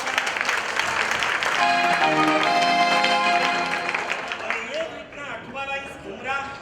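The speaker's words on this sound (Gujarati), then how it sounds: "ખૂબ તાળીઓના" A crowd at a local gathering breaks into applause, brisk clapping from many hands that swells, holds, then thins into scattered claps with voices and music underneath.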